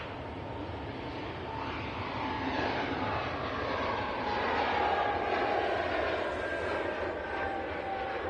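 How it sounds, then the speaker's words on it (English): An EasyJet Airbus A320neo jet departs Manchester Airport, a continuous broad engine roar that swells slightly midway and holds steady, fairly near and loud. "So that is a EasyJet A320 Neo going to Nice."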